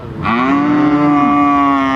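At the Sikhoraphum cattle and buffalo market, a cow lets out one loud, close, drawn-out moo that starts abruptly and holds steady for nearly two seconds, with no voices over it.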